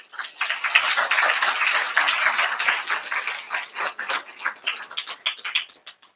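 An indoor audience claps together in sustained applause at a spiritual camp gathering. The dense patter holds steady, then thins into looser, scattered claps as it fades out.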